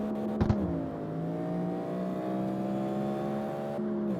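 In-game engine roar from an 800 hp LS-swapped Datsun Sunny K truck accelerating hard in CarX Street, a steady loud drone with harmonics that rise and settle, after a brief sharp burst near the start.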